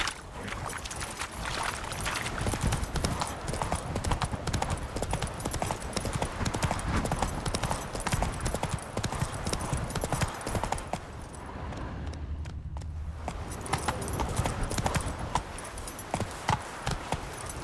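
Horse hooves clip-clop steadily at a gallop in The Witcher 3, a dense rhythmic patter that runs almost the whole time, briefly thinning near the end, with faint game ambience beneath.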